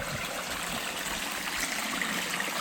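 Water streams and trickles steadily in an outdoor spot near water apple trees, a continuous close rushing wash with no pauses.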